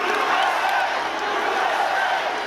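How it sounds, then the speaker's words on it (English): A large crowd packed into an indoor political rally roars and chants as a dense, continuous wall of voices, loud and unbroken for the whole stretch. "As this crowd"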